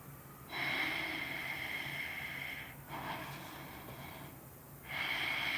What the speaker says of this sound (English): If you hear me breathing, it's a technique called Ujjayi Pranayama.